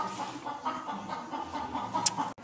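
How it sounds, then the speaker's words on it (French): A hen clucks softly in a series of short, repeated calls at moderate distance, alongside faint farmyard background noise. "une poule qui fait du bruit"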